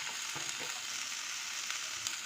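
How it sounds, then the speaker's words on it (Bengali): Yellow and red bell pepper, green capsicum, chopped green chilli and grated carrot hiss in hot oil in a pan, a continuous bright sizzle with faint stirring ticks, close and even. "এবার এটাকে ভালো করে একটু ভেজে নেব।"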